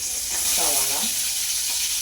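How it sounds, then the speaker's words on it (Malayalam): Onion, green chili, garlic and curry leaves sauté in hot oil with a continuous close sizzle and hiss, while a voice speaks briefly over it. "ഇതെല്ലാം നല്ലോണം ഒന്ന് വഴറ്റിയെടുക്കണം."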